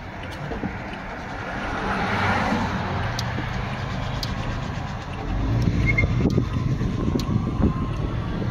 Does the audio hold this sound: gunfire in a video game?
no